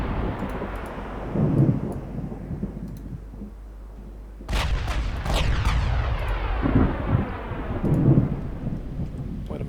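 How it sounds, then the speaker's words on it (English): Thunderstorm in the naval game Ultimate Admiral Dreadnoughts: steady rain with a loud, sudden thunderclap that rumbles and rolls on for several seconds, no voices. "It's a storm actually, not fog."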